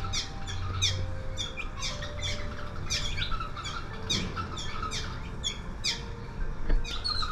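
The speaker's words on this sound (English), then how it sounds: "Birds." Birds squawk and chirp in repeated sharp calls near a beach on the Riviera Maya, a busy overlapping chorus over steady ambient noise with no talk.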